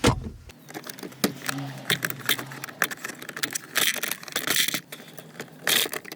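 Trim around the shifter of an 8th-generation Honda Accord being pried out by hand, with scraping, plastic creaks and rattling, jangly clicks close to the mic, no voices.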